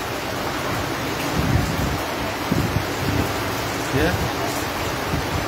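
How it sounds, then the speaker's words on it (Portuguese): Steady rain pours and splashes outdoors as a dense, continuous hiss, with brief low rumbles and a voice speaking faintly underneath. "que ela está pegando respingo da chuva"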